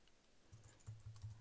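Someone types on a computer keyboard nearby. A short burst of quiet, uneven key clicks with no voices, a handful of strokes in quick succession.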